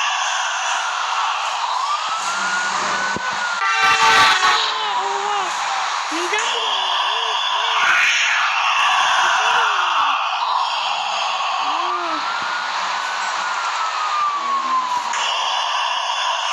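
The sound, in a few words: police car siren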